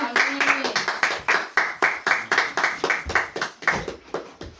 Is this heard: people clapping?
yes